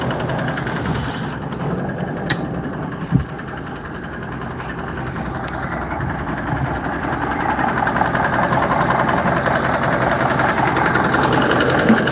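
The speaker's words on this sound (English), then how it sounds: "You get a look under the hood of a running international harvester." International semi truck engine running with the hood open, a steady close diesel drone with a faint rattle and one brief knock, growing slightly louder toward the end.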